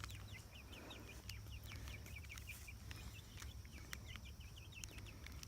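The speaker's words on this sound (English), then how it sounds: "here's our silky chicks" Silkie chicken chicks cheeping in a rapid, high-pitched series of peeps, steady and moderately close, over a low constant background hum.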